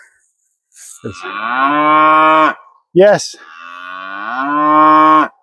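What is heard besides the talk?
cow mooing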